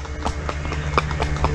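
Horse hooves clip-clop in a steady rhythm on a ride at Ooty, each step a distinct close knock with a faint background rumble.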